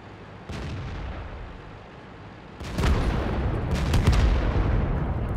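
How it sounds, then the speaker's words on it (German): Tank cannon fire in World of Tanks from a Type 59: a sharp boom opens the clip, followed by a louder, heavier blast with a rumbling tail and scattered impacts against steady low battle noise. "Ich schieße halt auf den VK."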